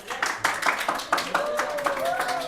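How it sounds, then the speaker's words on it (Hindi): Students in a chemistry class clap for themselves, a scattered burst of claps from a small group, with voices and a faint tone running underneath. "अपने लिए तालियां बजा लीजिए।"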